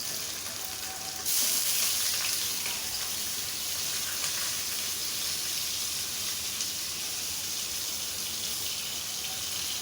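Onion dropped into hot oil with whole spices and curry leaves for a mutton kaleji masala, hissing and sizzling loudly and steadily after a quieter opening second.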